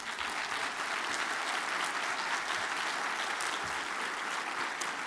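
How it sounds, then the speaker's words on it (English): Dense, steady audience applause fills a conference hall during the opening keynote of an arts marketing conference, loud and continuous throughout with no voices on top. "Applause, please."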